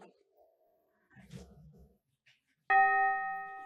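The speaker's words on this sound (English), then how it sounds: "Sound like a chime." A bell chime sound effect rings out clearly after some faint low rumbles and murmurs, its bright tone struck once and sustained as it slowly decays.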